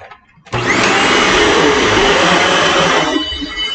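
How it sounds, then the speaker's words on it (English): A vacuum cleaner starts up and runs loud and steady with a high whine, indoors during morning house cleaning, continuing alone without talk. "The dogs don't like the vacuum,"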